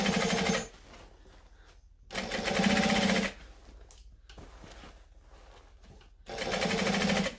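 Top-stitching a bag, a sewing machine runs in three loud, close bursts of rapid rattling stitches, separated by quieter pauses while the fabric is repositioned.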